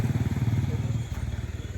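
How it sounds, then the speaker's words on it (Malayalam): A motorcycle rumbles past on a cold, foggy road by a roadside food stall, its engine throbbing close and then slightly dropping in pitch; the rider talks loudly on a phone. "ഉറക്കെ സംസാരിച്ചുകൊണ്ട് വന്നു ഒരാൾ ബൈക്കിൽ"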